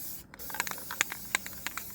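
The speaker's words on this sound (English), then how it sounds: "I'm out here spray painting." An aerosol spray paint can hisses outdoors while a tree stand gets repainted, a continuous close airy spray with short bright spurts and sputters, steady and fairly quiet.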